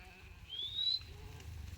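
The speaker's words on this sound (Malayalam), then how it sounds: "800 ആടുണ്ടെന്നാ പറയുന്നത്." A single faint, high bleat from a large herd of goats and sheep rises and fades, with low rumbling background noise and no talking.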